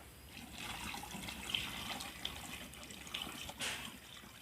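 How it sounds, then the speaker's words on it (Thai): Water pours steadily into a container on a durian farm, a soft continuous rushing stream with a few small splashes, faint and without talk. "อ่าเทน้ำเพิ่มเติมลงนี้นะฮะ"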